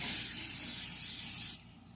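A continuous cooking-spray aerosol hisses close by into a bowl for about a second and a half, then cuts off abruptly.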